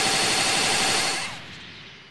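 Rapid, dense barrage of ki blast explosions from the Die Missile Barrage attack in Dragon Ball Xenoverse 2, loud and continuous before tapering off into a fading rumble.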